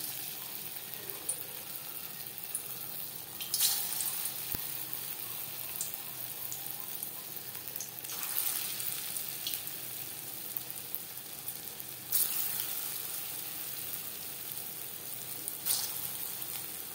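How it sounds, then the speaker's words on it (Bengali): Green banana koftas frying in hot refined oil in a kadai, a continuous quiet crackling sizzle with periodic louder surges every few seconds as pieces are moved or added, plus one sharp click. "কোপ্তা ভাজবার জন্য বেশ খানিকটা রিফাইন্ড অয়েল গরম করে নিয়েছি।"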